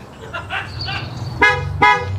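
A car horn gives two short, bright honks near the end, following softer toots and voice-like sounds over a low rumble, with some talk in the background.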